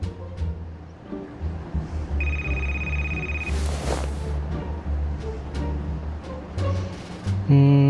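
A telephone rings with a steady electronic tone partway through, over a low background rumble and scattered noises, followed by a brief burst of tones near the end.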